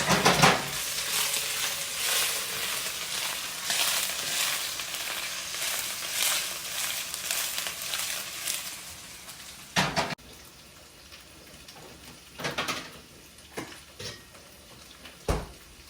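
Sausage frying in a pan for hangover fried rice, busy sizzling with stirring and utensil scrapes for most of the stretch, then quieter frying broken by a few sharp clanks against the pan.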